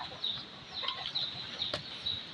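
Chickens being fed rice on a cold, windy morning give soft, intermittent clucks over a faint steady background hum.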